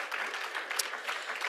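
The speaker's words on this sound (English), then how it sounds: "give them each another round of applause for all of your" Faint, muffled applause from an awards show audience, a short steady patter of many hands without distinct individual claps.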